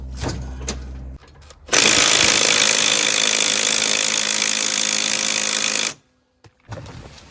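A half-inch impact wrench loosens a bolt on a Troy-Bilt Storm 3090 dual-stage snowblower, firing in one loud, harsh, continuous burst of about four seconds close by before cutting out abruptly.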